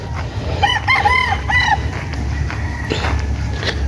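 Stag roosters crowing in a yard, a few overlapping cock-a-doodle-doo calls at moderate distance over steady background noise.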